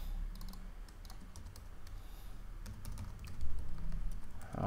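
Quiet typing of a Wi-Fi name and password on a computer keyboard while setting up an Arduino MKR1000, a steady patter of soft key clicks that ends with a slightly louder burst.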